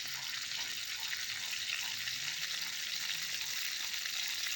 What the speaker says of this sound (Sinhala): දැන් තාච්චියකට තෙල් ටිකක් දාලා හොඳට රත් වෙන්න තියන්න ඕනේ.